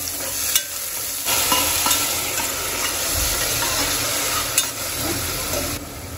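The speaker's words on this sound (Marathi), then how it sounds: "फोडणीमध्ये कांदा, तेलात कांदा थोडासा परतला की" Onion fries in hot oil for a tempering, a continuous sizzle under occasional stirring clatter and utensil knocks, close and moderately loud throughout without speech.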